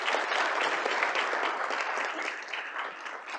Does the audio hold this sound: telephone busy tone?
no